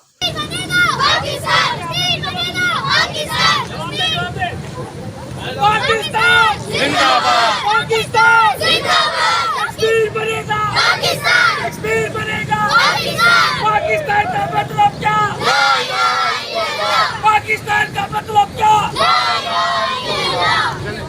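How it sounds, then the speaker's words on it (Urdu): Young schoolchildren at a Kashmir solidarity event shout slogans in rhythmic unison, a loud crowd of voices rising and falling in repeated call-and-response bursts. "ننھے منھے طلباء و طالبات نے کشمیریوں کے حق میں زبردست نعرے بازی کی"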